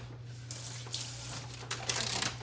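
Tap water running in a kitchen while a hand is wetted during dough preparation, a steady splashing spray that surges a few times over a low appliance hum.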